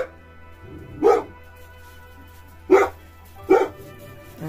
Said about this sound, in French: Il y avait une dizaine de joggers et donc la chienne aboyait beaucoup